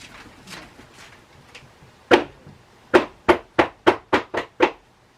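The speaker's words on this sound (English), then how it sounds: "I am going to go and tap this down gently because I don't want to dislodge the acrylic divider" A soap mold with an acrylic divider, filled with vanilla bean cold process soap, is tapped down on a table: a few soft knocks, then a run of about seven crisp, evenly spaced taps, close and alone.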